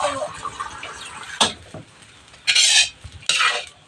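Sardines and egg being stirred in a pan with a metal utensil, producing scraping clinks and a few louder bursts of sizzle, with quiet talking in the background.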